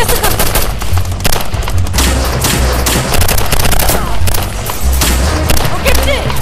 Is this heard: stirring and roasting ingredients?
no